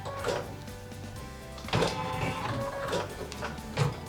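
An embroidery machine stitches a placement line on a quilt block, a steady mechanical whir and hum with rhythmic needle thumps and a few louder clunks as the hoop shifts, heard up close with no voices.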